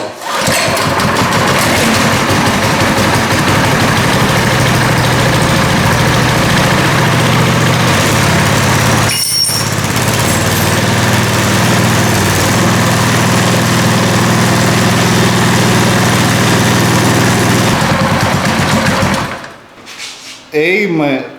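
A small gasoline engine on a homemade 48V DC generator runs steadily at close range for about twenty seconds, a brief dip midway, then cuts out near the end.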